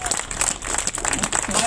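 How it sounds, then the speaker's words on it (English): Crowd applause at an outdoor anti-war protest in Salt Lake City, a steady wash of clapping and cheering that holds for the whole short stretch with a voice over it. "so give yourselves another round of applause"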